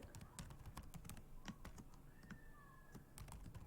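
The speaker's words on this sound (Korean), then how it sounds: "다시 한번더 입력을 할게요." Typing on a computer keyboard while entering an account ID for a password reset, with steady close key clicks in an irregular rhythm over a constant background hum.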